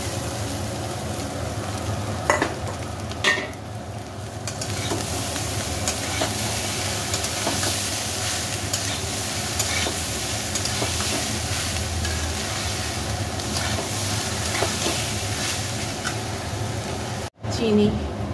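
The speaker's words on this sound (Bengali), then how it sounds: "এবার ভাতটা দিয়ে দিচ্ছি।" Rice frying and being stirred in a pan gives a loud, constant sizzle and rumble for the whole stretch, with a few scrape knocks and a brief dropout near the end.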